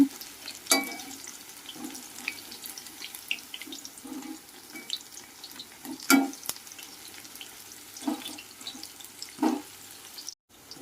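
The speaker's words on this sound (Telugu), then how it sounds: "కాకరకాయలు శుభ్రంగా వేగుతాయి ఇప్పుడు నిదానంగా తిప్పుకుందాం" Bitter gourd slices fry quietly in oil in a pan, with a soft steady sizzle and a few sharp scrapes and knocks as they are slowly stirred.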